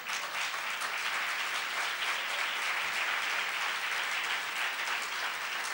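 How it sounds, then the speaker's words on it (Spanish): A church congregation claps during a Sunday service, steady dense applause filling the room for several seconds without pause. "Aplauda al Señor en esta mañana."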